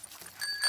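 A cartoon bicycle bell gives a couple of short, bright, thin rings, brief and moderately loud.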